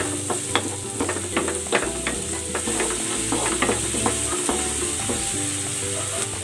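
Onion goes into a pan of sautéing garlic for a pork gravy, sizzling and frying steadily while a utensil stirs and scrapes with repeated knocks against the pan.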